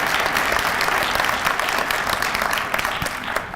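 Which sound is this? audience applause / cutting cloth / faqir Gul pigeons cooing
audience applause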